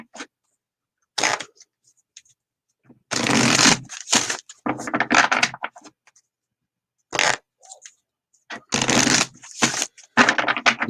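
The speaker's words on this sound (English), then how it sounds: "let's pull a couple of Moonology cards here." Moonology oracle cards being shuffled by hand in several separate bursts of riffling and flicking, each a second or so long, separated by near-silent pauses.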